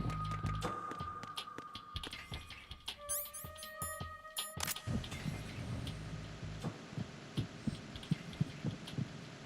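A heartbeat effect in the video game Metal Gear Solid 2, a low repeating throb under tonal game hums, beeps and a brief bright chime burst, moderately quiet with no talking.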